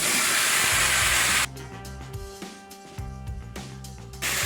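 Sliced ridge gourd goes into a hot pan of spiced masala with tomato, setting off a loud, steady sizzling hiss that dips briefly and then swells again, with soft clatters of stirring underneath.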